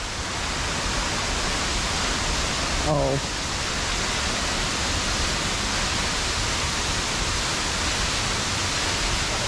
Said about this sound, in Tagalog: May hangin po, gawa ng pressure ng tubig.